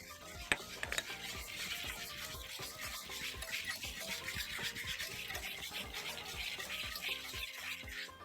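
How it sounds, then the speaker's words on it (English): Eggs and vanilla whisked into a warm mixture in a bowl, a continuous fast rhythmic clicking and swishing of the whisk, close and even in level from start to finish, with no voices. "I'll add the eggs and mix well"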